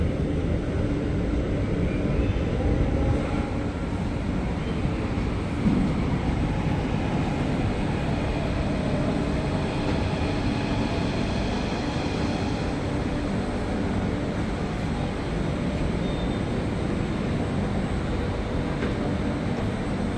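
KRL commuter electric train at Duri station in Jakarta, a loud continuous low rumble of the passing train that holds steady for the whole stretch with no talking.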